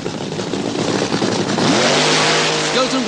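A drag racing car does a burnout in the near lane at Santa Pod in 1976, a loud sustained engine roar with rising tire screech, commentary voice heard over it.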